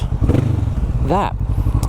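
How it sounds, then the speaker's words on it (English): A Kawasaki Vulcan S motorcycle fitted with an Arrow exhaust rumbles steadily at idle, a deep low throb running beneath a voice talking close by. "I love the sound of this exhaust."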